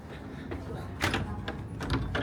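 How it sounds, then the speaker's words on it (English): A ship's door on a Celebrity Summit cruise ship is opened onto the lower deck, giving a few soft clunks and a latch click followed by a brief rustle, near and moderate, with faint background murmur. "Let's peek out this door here."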